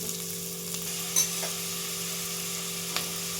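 Onion frying in a pan for methi pulao, a steady, even sizzle running throughout at moderate level, with a couple of faint light clicks from stirring and no voices.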